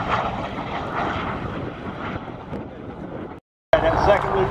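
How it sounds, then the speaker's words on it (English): An F-47 turbojet engine at an airshow, a steady, loud roaring rush heard from a distance with wind buffeting. It cuts out briefly near the end, then resumes. "Now I'm going to fade the music and listen to the sound of the jet."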